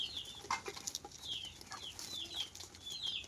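Pigeons eating grain from a person's hand make quiet, close chirps, small flutters and light pecking sounds in a soft, sparse pattern.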